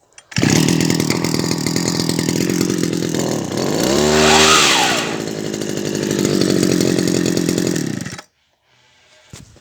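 A 1983–84 Echo SRM 300E brush cutter's small two-stroke engine runs loudly and close, revving up and down with a high buzzing whine, then cuts off abruptly near the end, leaving near silence.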